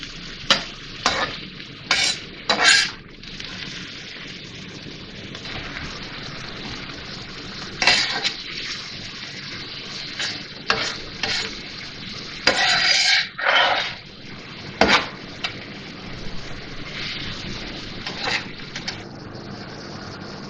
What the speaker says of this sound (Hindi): इसको इतना मिक्स करना है प्याज और इसके साथ भूनना है,